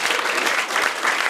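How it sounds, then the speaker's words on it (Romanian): Dense, loud applause from an audience at a live Romanian-language stand-up comedy show, continuous and close. "Aplauze pentru doamna care stă"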